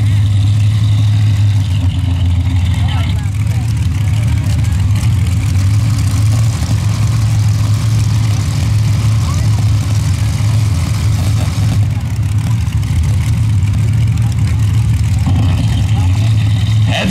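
Loud modified paddle-tire drag racing cars running heads up, a steady heavy engine roar held throughout at close range.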